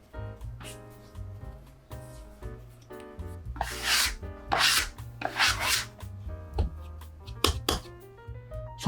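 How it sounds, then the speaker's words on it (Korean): Cinnamon roll dough, made with milk, melted unsalted butter and egg, kneaded by hand: soft rubbing and slapping swells in bursts under steady background music. "손반죽 15분 동안 해줄게요."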